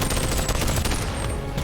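Dense, continuous automatic gunfire from omniprojector enemies in a Boneworks video game mod rattles loudly and without pause, with a thin high whine running over the top.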